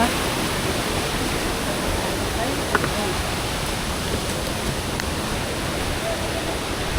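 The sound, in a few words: waterfall near Honnavara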